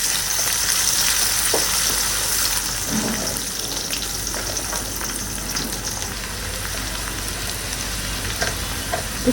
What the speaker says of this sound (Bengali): পেঁয়াজ দিয়ে পেঁয়াজটা ভাজতে